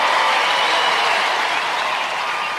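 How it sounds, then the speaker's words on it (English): Arena crowd at the National Indoor Arena applauding and cheering during a televised International Gladiators contest, a dense, steady roar of clapping that fills the space without pause. "Let's hear it for Jamo from Finland"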